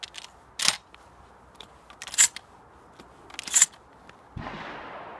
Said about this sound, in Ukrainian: Заряджаємо зброю.